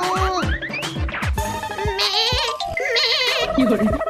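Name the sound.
goat kid bleating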